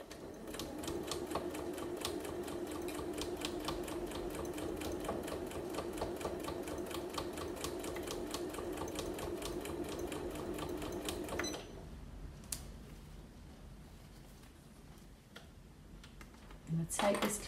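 A sewing machine stitches bias binding onto a fabric table mat in a fast, steady mechanical chatter for about eleven seconds, then stops, leaving quiet with a few small clicks and handling noises.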